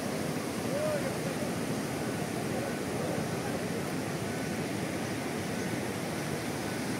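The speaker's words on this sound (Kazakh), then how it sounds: "су қатты келеді" A mudflow flood rushes strongly and continuously past houses in Boston village, a dense, steady roar of water with no breaks, close by.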